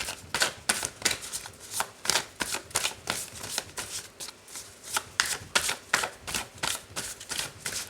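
Tarot cards are shuffled by hand in quick, crisp riffles, the papery slaps repeating in an uneven rhythm close to the listener with no talking.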